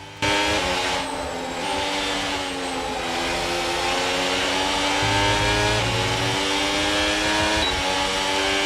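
Sim racing cars in an ERL league race, running behind a McLaren into turn 6, drone with a loud, sustained engine whine that rises and shifts in pitch through gear changes, heard alone without talk.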